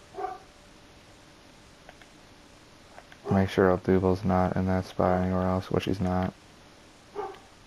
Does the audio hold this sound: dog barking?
yes